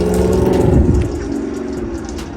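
A Ford Mustang passes on a nearby street, a low rumbling engine that swells and then fades as it goes by, with a faint hiss of tyres under it.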